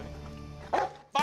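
A police-type working dog barks and yips during a bite test on a jacket coated in truck bedliner. Two short sharp bursts rise over a steady low hum and background noise.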